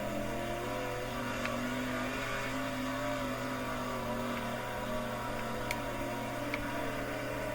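A steady, droning sprint car engine runs a racing lap in the World of Outlaws video game, holding a constant pitch with slight wavering and a few faint ticks.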